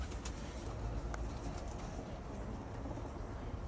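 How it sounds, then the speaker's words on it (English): Pet pigeons or doves coo softly in their nesting area, low and half-buried in a steady, noisy background hum with no voices. "I don't want to scare the birds off too much."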